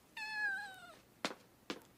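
A cat gives one clear, drawn-out meow, followed by two short sharp knocks, close and fairly quiet with nothing else around it.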